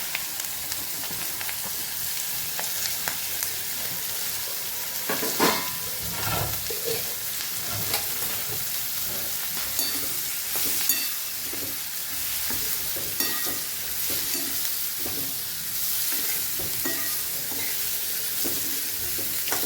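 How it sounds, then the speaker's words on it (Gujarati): Raw papaya and green chillies sauté in oil with a steady, close sizzle and occasional stirring scrapes and clinks from the pan. "આપણે તેલ સાથે પહેલાં પપૈયાને અને મરચાંને સાતળી લેવાના છે"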